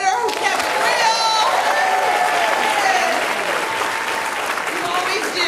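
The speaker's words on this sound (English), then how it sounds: "We have got to make sure we give a hand of applause to our moderator" A large audience at a conference panel on Black women organizing and voting gives the moderator a loud, sustained round of applause, with cheering and crowd chatter mixed in and voices rising above it.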